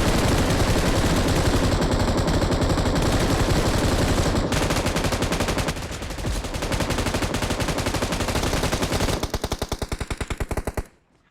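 Gunfire in a shooting video game payload match, loud sustained automatic bursts with rapid rhythmic machine-gun fire that continues almost without pause before cutting off near the end, with no talking.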